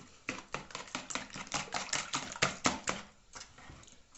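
Quick rhythmic clinking as eggs are whisked with a little salt in a bowl, a rapid run of light taps that slows and fades near the end.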